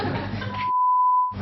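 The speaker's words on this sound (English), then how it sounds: "Okay, that's going to be beeped out." A sharp censor bleep, a single steady electronic tone lasting about half a second, cuts in between loud studio talk on a television debate show, with voices before and after it.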